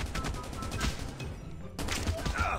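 Gunfire in the mobile shooter Call of Duty Mobile, with dense rapid shots and game effects filling the clip, a brief quieter gap, then more firing close and loud.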